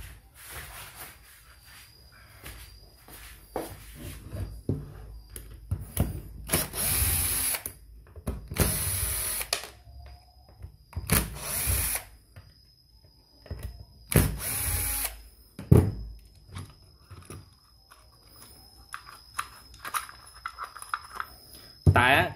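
A used Japanese cordless drill with a worn front gear runs in short, irregular bursts, giving a rough grinding whine with a thin high tone. Quiet handling clicks and pauses fall between the runs.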